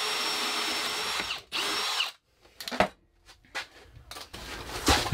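An electric drill bores through aluminium sheet for a starter and ignition panel, with two sustained whining bursts followed by quieter short stop-start spurts and clicks, close by.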